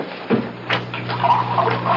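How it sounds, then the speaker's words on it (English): Water pours into a glass in a quiet indoor room, a short liquid gush and trickle lasting about two seconds, close and soft with no voices. "get you a glass of water"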